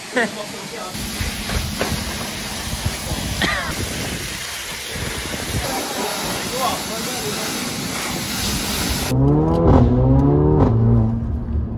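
A Mercedes CLA45 AMG's loud, raspy modified half-line Milltek exhaust revs up near the end, rising and falling in pitch, after a stretch of steady engine hiss with someone talking over it.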